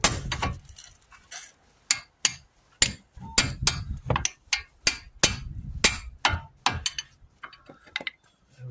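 A hammer strikes the outer tie rod end of a Volvo V70 about fifteen times to knock it loose. The sharp metallic knocks ring close and loud, in uneven bursts with short gaps between them.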